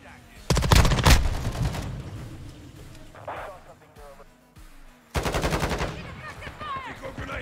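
A decoy grenade in Call of Duty Modern Warfare 2 sets off fake gunfire: bursts of rapid automatic shots, a pause with scattered smaller sounds, then another sustained burst. A voice-like game callout is mixed in faintly.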